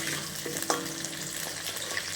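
Potatoes frying in a pan on a home stove, giving a steady close sizzle with a brief stirring clink near the start and no talking.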